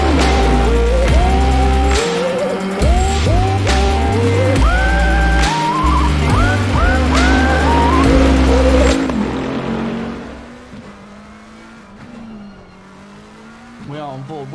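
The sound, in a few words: race car engine revving in racing game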